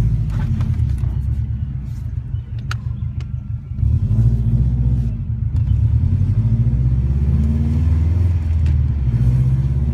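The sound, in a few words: 2005 Subaru Impreza WRX STi driving down the street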